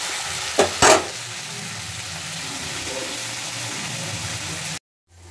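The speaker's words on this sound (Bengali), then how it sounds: "আর তেলের মধ্যে একটু গরম মশলা ফোড়ন দেবো, ভাজা হোক।" Steady hissing sizzle of chicken frying in hot oil, continuous and close, with a couple of brief sharper crackles early on before it cuts off.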